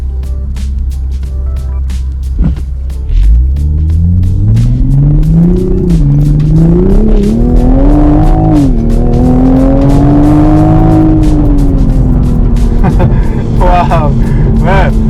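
A 2021 Toyota Supra MK5 A91 launches from a stop, its engine rising through a loud close full-throttle run with audible gear shifts, while people talk over it.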